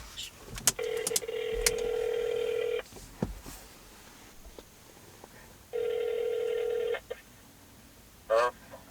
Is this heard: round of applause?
no